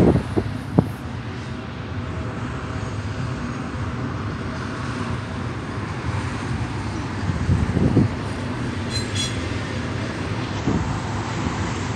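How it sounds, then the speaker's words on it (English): A freight train passes through Cajon Pass as a continuous, fairly loud rumble and roar with wind, steady throughout with a few faint higher squeals. "Just gonna keep hearing the sound of the train."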